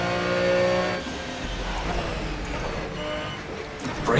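A race car engine roars at full throttle in the Project Cars video game, loud and sustained with steady harmonic whine, dipping slightly then holding high revs throughout.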